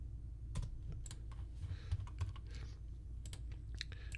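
Computer keyboard keys tapped while working in CNC design software: a handful of sharp, scattered clicks over a low steady hum, close and quiet, no voices.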